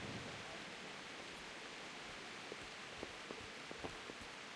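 Steady rain pouring in a video game, a soft continuous hiss with scattered faint drop ticks, low in level and alone.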